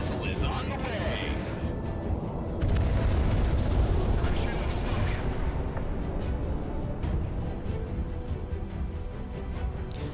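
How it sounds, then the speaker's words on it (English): A missile explosion in the flight combat game Project Wingman: a dense, rumbling blast that swells about a third of the way in and rolls on loudly to the end, with a voice talking underneath. "Missile is on the way."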